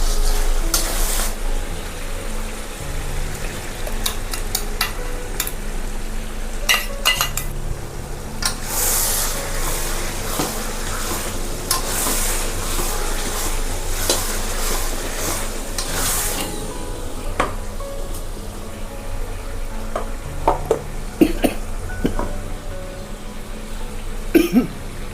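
Garlic added to nearly melted onions in a pan for a Bihari-style mutton curry, with continuous close sizzling and frying under repeated scraping and stirring strokes, plus a few sharp clatters of the utensil.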